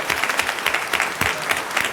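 A council chamber audience at a Fayetteville city council meeting applauds the city manager, a brief, dense burst of many hands clapping at steady volume throughout.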